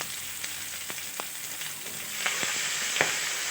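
Chicken leg and thigh pieces sizzle in oil in a preheated pan, a steady bright hiss with scattered pops and crackles that grows slightly louder toward the end, with no voices.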